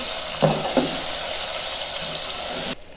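Ginger garlic paste frying with onions in a pan for aloo methi, a steady sizzle with two brief stir clatters near the start, close and fairly loud, cutting off abruptly at the end.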